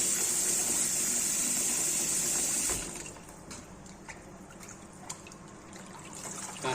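Goat tripe being washed in water by hand makes a steady splashing trickle for nearly three seconds, then turns into softer, scattered sloshing and drips.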